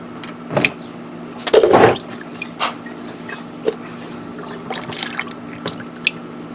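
Used engine oil drains from a car after an engine flush, heard as scattered drips and short liquid splashes and gurgles, one fuller pour-like burst, all close against a low steady hum.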